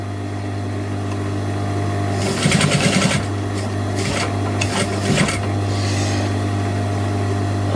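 A sewing machine runs a quarter-inch seam along lined-up top edges, stitching in a few short bursts over a steady background hum, close and moderately loud.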